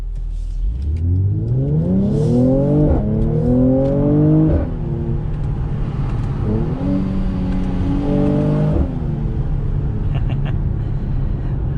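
A 2021 Mercedes-Benz C43 AMG with 4MATIC accelerates hard, its engine revving upward through two rising pulls with a gear change between, loud and close from inside the cabin, then settling to a steady drone.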